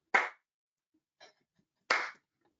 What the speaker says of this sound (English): Elly gets a slow clap.